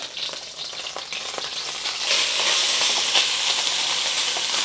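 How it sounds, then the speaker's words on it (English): Beef pieces searing in a tablespoon of oil for a beef and broccoli stir fry, a close steady sizzle and crackle that grows louder and denser halfway through, no talking. "we're just searing one side of it first, just to get a good sear on it"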